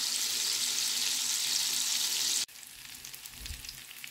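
Garlic, ginger and Espelette pepper frying for a Congolese wild broth, a bright steady sizzle that cuts off abruptly, followed by quieter crackling and a soft low thump.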